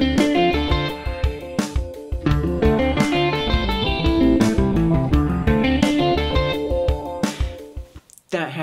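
Electric guitar plays a minor 7 arpeggio exercise through effects, a dense, continuous run of notes with a full, saturated tone, steady and loud, thinning out near the end.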